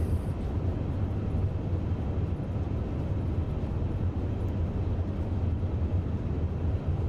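An Inibuilds A350 airliner's reverse thrust roars after landing in Microsoft Flight Simulator 2024, a steady, moderately loud broadband jet rush with a low rumble underneath, continuous and unbroken, with no voices over it.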